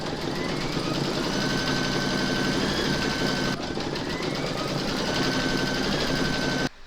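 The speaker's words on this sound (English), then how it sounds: "Pop your hoop into your machine and stitch round number 2 again." An embroidery machine stitches fabric held in a hoop for a calla lily floral coaster, giving a close, continuous, rapid mechanical whirring and tapping that runs evenly before cutting off at the end.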